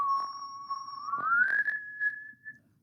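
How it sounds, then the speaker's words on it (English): A person whistles a clean, pure single tone that holds steady and then glides upward to a higher held pitch, close and fairly soft, with no talking. "So when I whistle, you can see it's a very pure pitch, just one line."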